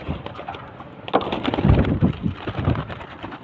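Pigeons at a home loft make soft rustling wing flutters and light scuffling close by, with low rumbling bursts in the latter half and no voices.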